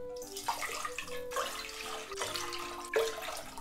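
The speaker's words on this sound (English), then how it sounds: "I'm gonna put in 4 cups of water." Four cups of water poured into a large pot for a Japanese oden stew, a steady splashing gush with a few louder surges, close and without talk.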